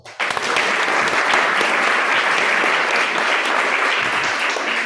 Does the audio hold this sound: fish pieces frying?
no